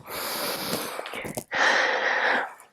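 Deep breathing during a yoga flow, with two long, loud, close breaths, a slow breath in followed by a breath out after a short gap.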